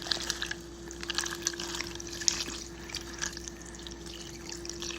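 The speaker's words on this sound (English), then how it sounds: "Here, pour your water." Water poured out during casual home food preparation, a soft, faint splashing trickle with light, uneven spatters running steadily for several seconds and no voices.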